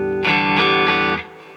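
An electric guitar played through a Fender Tone Master Pro's Deluxe Reverb amp model rings out in three quick, loud, sustained strums with a slightly driven edge, then cuts off into quiet.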